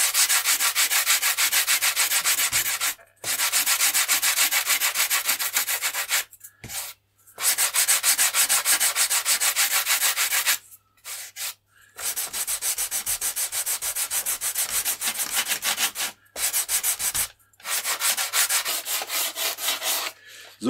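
An epoxy repair surface on a positive-built model aircraft wing, with leading edge and spar, is sanded by hand in long rasping strokes, loud and close, broken by several brief pauses.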